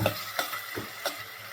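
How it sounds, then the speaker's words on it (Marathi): Tomato puree frying with browned onion in a pan, a soft steady sizzle broken by three or four quick stirring scrapes at an even pace, faint and close with no voices. "त्याच्याबरोबर टोमॅटोची प्युरी भाजून घ्यायची आपल्याला."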